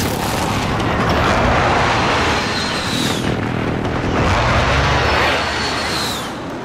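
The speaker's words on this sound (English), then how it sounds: "Be advised, friendly precision airstrike inbound." A precision airstrike in a video game lands as a pair of loud, rumbling explosions with broad roaring blasts and a long sustained rumble, each blast followed by a faint descending whistle.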